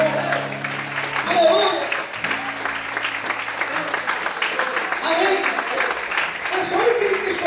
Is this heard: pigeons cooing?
no